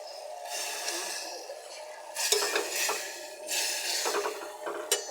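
Spiced meat being stirred with a metal utensil in a sizzling pot of potato and carrot curry after frying the spices until the oil separates, a steady close hiss broken by several scraping clinks against the pot.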